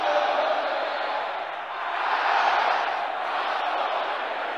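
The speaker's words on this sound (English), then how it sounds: "Brothers, can I hear you shouting this loud and clear?" A church congregation shouts prayer together in one loud, continuous roar of many voices that swells and dips over several seconds, filling the hall.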